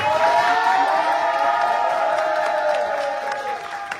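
Concert crowd at an amusement park show cheering, whooping and clapping in a loud, sustained wash, calling the performer onto the stage, tapering slightly toward the end.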